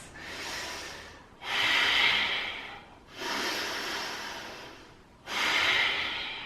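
Slow, deep nasal breathing held through a yoga balance pose, four long audible breaths alternating between inhale and exhale, close and steady with no talking.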